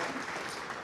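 A church congregation claps together in steady, dense applause that stays loud and even throughout.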